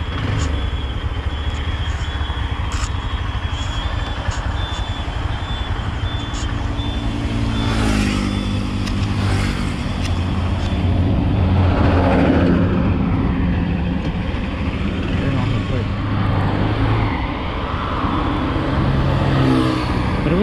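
Hero Hunk 160R motorcycle with electronic fuel injection, its engine running steadily while being ridden on the road, a continuous loud drone with wind rush and slight rises in revs, no talking.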